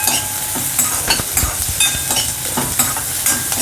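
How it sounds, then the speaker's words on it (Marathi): Chopped onion sautéing in a hot pan with garlic for misal, a steady sizzle of frying under repeated scraping and stirring strokes of a spatula, close and fairly loud with no talking. "त्यामुळे कांदा मस्त परतून घ्यायचा"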